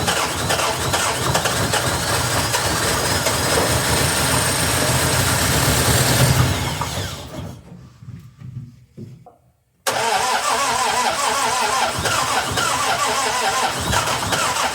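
A 1961 Triumph TR3A with a newly fitted high-torque starter: the engine runs loud and rough, then dies away into near silence, and the next start brings it straight back to a close, steady idle.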